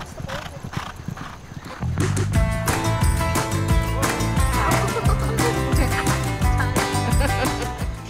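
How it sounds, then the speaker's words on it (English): Racehorses in morning training on the Keeneland track pass by, their hooves beating a busy, irregular rhythm that starts faint, then turns louder and closer, with other voices and noise mixed in. "there go some horses"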